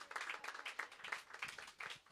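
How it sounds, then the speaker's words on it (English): An audience at an evening event gives a round of applause, a brief spell of dense, uneven clapping heard from a distance and fairly faint. "So give them a round of applause."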